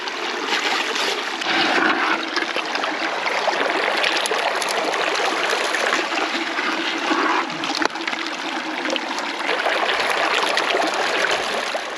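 Water pours steadily through a sluice box at a gold prospecting dig, a constant close rushing and trickling flow with splashes throughout and no talking.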